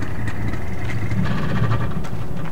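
Tractor engine in the video game Farming Simulator 2013 hums at a steady low idle, a continuous rumbling drone close and even throughout with no talk.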